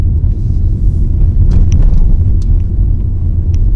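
Skoda Kushaq 1.0 petrol automatic SUV crossing a rough road stretch, a loud steady low cabin rumble with a few faint knocks and rattles from the suspension, no talking.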